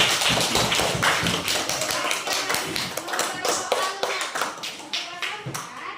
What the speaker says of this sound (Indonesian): Tepuk tangannya dulu untuk kalian.